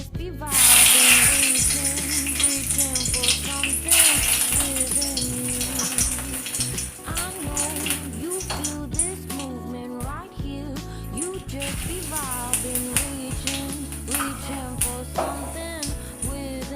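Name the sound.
bay leaf, dried chilli and cumin sizzling in hot mustard oil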